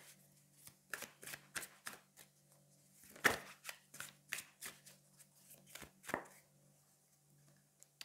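Tarot cards shuffled by hand for a card reading, a series of soft, quick riffling and tapping bursts with short pauses between them, close and quiet with no voice.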